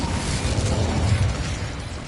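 Fire spell cast in the Hogwarts Legacy video game, a dense roaring burst of flame that stays loud and steady for about two seconds, with no talking over it.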